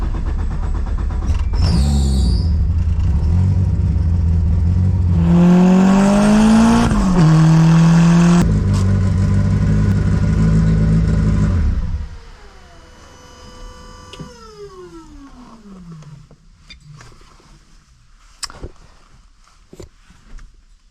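A DSM car running on E85 fuel revs hard and accelerates loudly up through several gears, close and roaring, then fades away into a distant whine with faint clicks.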